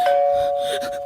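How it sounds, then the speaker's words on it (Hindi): A doorbell at a home rings with a single bright electronic tone held steadily, loud and close, with nothing else around it. "और तभी डोरबेल बजी।"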